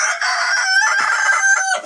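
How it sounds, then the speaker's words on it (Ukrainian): A rooster crows loudly and close by inside a chicken coop, one full drawn-out call that fills the moment with no talking. "наш півник видає голос хоче показати, хто хазяїн у цім курнику"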